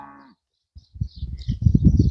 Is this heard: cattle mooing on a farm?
yes